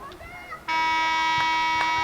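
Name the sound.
buzzer ending the first period of a field hockey game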